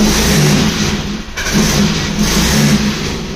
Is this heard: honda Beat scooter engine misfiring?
yes